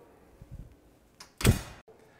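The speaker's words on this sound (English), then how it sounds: "We'll shut the door." The door of a meat smoker swings shut with a soft creak and then a firm, close metallic thunk, preceded by a few faint handling bumps.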